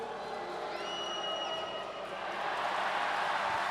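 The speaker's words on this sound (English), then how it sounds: "You gotta appreciate the crowd" Basketball arena crowd cheering and jeering at the opposing team during a professional game in Indonesia, a continuous mass of voices with a sharp whistle-like cry rising above it, swelling louder near the end.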